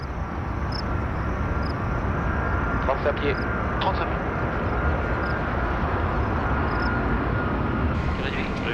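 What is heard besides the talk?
Airbus A380 engines at maximum thrust during takeoff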